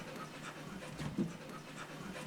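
A dog pants steadily and audibly, close by, while its rear end is being cleaned; the breathing runs throughout in a quick, even rhythm with no talk.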